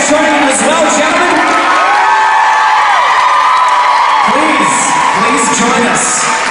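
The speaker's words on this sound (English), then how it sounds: "we got so many screaming Harry Potter fans here today" A large crowd of Harry Potter fans screams and cheers loudly at an exhibition panel event, with high-pitched whoops and shouts sustained throughout at close range.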